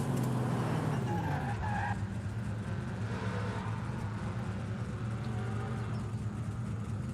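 A Subaru in Forza Horizon 5 revs steadily while its tyres skid and squeal, with a continuous, moderately loud engine drone and rising tyre whine in the first seconds.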